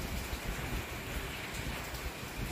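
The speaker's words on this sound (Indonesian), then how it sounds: "dan cuaca juga sangat-sangat berkah ya, turun hujan langsung" Steady rain pours down, a dense, even hiss of drops on surfaces throughout, fairly close, with no speech.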